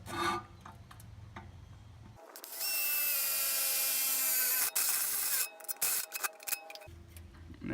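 Power drill boring a hole in a metal transmission or engine oil pan, with a sustained high whine lasting about three seconds, then short stuttering bursts as the bit pushes through, framed by quieter handling noise.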